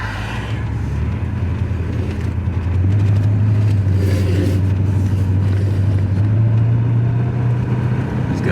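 A Porsche 928 cruises along a road with a steady low engine drone and road rumble, the engine note lifting and holding higher as the car speeds up, with no talking.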